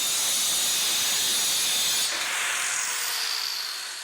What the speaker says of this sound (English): when you're cutting metal like this